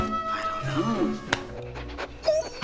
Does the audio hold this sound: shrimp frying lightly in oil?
no